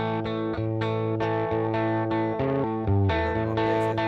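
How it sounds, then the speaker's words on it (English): Electric guitar played through a tweed-style amp simulation in Logic's Amp Designer, strumming a sustained, mildly driven chord progression with changes roughly every half second, loud and continuous with no voices. "Let's go with just a tweed sound."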